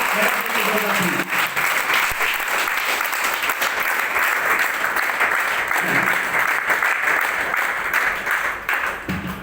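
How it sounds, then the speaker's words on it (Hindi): Loud, sustained applause from an audience at a marketing company CEO's speech, a dense, even wash of clapping that fills the whole stretch with a faint voice buried underneath. "प्लीज जोरदार तालियां सर, जबरदस्त तालियां"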